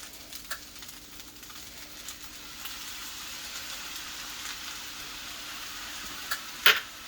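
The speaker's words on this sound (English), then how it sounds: "Give some more squirts of some vegetable oil. And then I take some soy sauce to help with the color." Fried rice with vegetable oil and soy sauce sizzling in a Joyce Chen wok, a quiet, steady hiss that builds slightly and ends with a brief sharp clatter near the end, with no speech.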